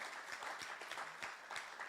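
Audience applause at an evening sharing event, a steady patter of clapping from a modest crowd, fairly faint and continuous throughout.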